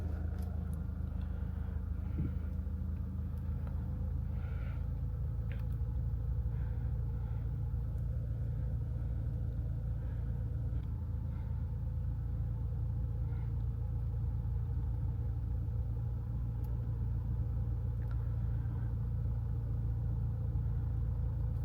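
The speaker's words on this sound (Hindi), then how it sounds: "तो मैं अब इसको डी पे डालूँगा और ब्रेक पैडल को धीरे धीरे रिलीज़ करूँगा तो ये गाड़ी अपने आप चलने लग जाएगी।" An automatic car shifted into drive creeps forward as the brake pedal is slowly released, giving a steady low engine rumble and idle drone heard close up from inside the cabin, alone without talk.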